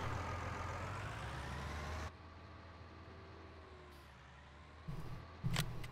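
A Case Maxxum tractor engine from Farming Simulator 19 rumbles steadily at idle and drops in level partway through, with a few brief knocks near the end and no talking.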